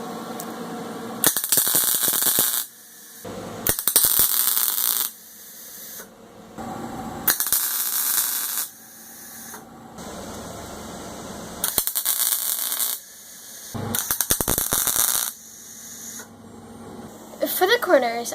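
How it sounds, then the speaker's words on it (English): A door patch panel is plug welded in a run of short, loud, crackling bursts, each lasting one to two seconds with brief pauses between them, close to the listener. "I have a clamp right next to the plug weld I'm going to be doing first"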